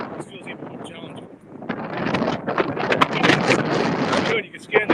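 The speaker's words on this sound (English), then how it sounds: "Oh, the wind's starting to pick up a little more." Gusty wind buffets the microphone outdoors while walking in Key West, rising into loud rumbling blasts, with a person talking over it.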